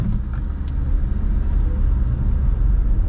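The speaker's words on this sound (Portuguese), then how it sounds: "pisa forte no freio, kick down no acelerador, pode soltar o freio de uma vez" Haval H6 GT hybrid SUV launching hard from a standstill with kickdown, a loud deep engine rumble that stays heavy and sustained close by, with no talk.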